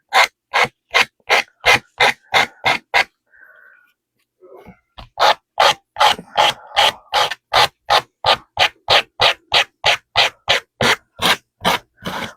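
Coarse 80 grit sandpaper worked by hand in steady back-and-forth strokes, loud and close, a regular run of rasping scrapes broken by a short pause before resuming at the same brisk rhythm.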